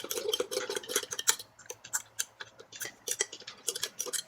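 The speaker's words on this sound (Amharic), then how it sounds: "አማስለዋለሁ" A spoon stirs yeast and bread flour in a bowl, giving quick, irregular clinks and taps close up, with a few short pauses and no talk.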